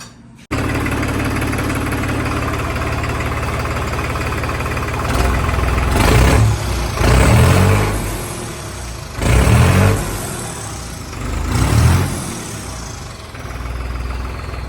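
New Holland 3630 Special Edition tractor running with a newly fitted silencer, a steady mid-pitched diesel idle broken by several loud revving bursts, close to the listener with no talk.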